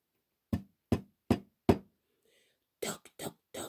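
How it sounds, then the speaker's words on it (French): Four evenly spaced knocks on a door, sharp and close in a quiet room, followed after a pause by a short burst of speech. "Il frappa à la porte."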